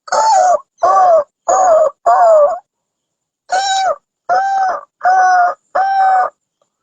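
A person's voice imitates a dog crying, giving eight loud, drawn-out whimpering howls in two groups of four, each about half a second long, separated by a short pause.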